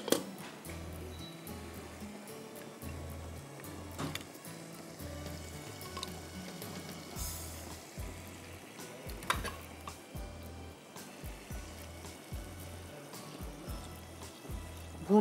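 Masala for baigan khaas sizzles in hot oil as a spoon stirs it, with soft scraping strokes and faint clinks over a low, steady frying hiss.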